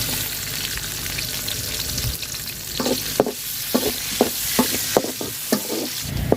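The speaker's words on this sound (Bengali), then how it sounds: "পেঁয়াজটা লাল লাল করে বাজিয়ে নিছি" Chopped onion fries in oil with garam masala, cardamom and cinnamon for vegetable khichuri, a loud close sizzle broken by a regular series of spatula scrapes against the pan, about one every half second in the second half.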